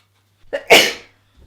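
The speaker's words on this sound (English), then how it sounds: "I feel like I'm gonna sneeze." A single sharp sneeze, preceded by a quick inhaling catch, close and loud, then silence.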